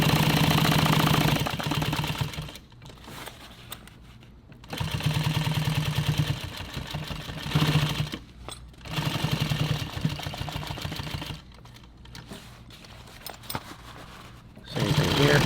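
A sewing machine stitches nylon for a tactical SOE IV pouch, running in several loud, fast mechanical bursts separated by quieter pauses where a person talks.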